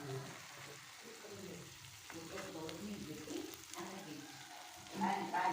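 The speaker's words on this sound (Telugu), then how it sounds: "చూడు అది సైడ్లో అంతా నూనె వచ్చేసింది, మెల్లగా ఉడుకుతూ ఉంది." Stuffed brinjal curry bubbling gently in oil in a pan, a soft continuous low sizzle and simmer with faint stirring, fairly quiet and close.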